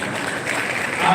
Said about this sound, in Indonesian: Aduh, tepuk tangan dulu.